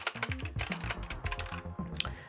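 Rapid clacking keystrokes from a Royal Kludge RK71 mechanical keyboard, a dense run of close, crisp clicks with no one talking.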